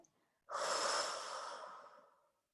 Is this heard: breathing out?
yes